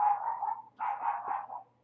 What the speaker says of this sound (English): That annoying noise that you can hear in the background is our dog who barks all the time.